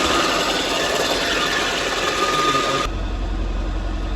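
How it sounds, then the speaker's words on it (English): A noisy car engine idling high, with a suspected alternator fault and a check engine light on, runs as a steady, close mechanical drone with no talk; the sound abruptly thins to a low hum near the end. "So the engine is noisy and I can hear this."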